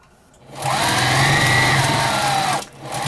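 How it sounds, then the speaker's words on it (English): A sewing machine runs loud and steady for about two seconds as it sews a seam down a quilted potholder, winding up and then stopping cleanly. "I'm going to sew all the way down"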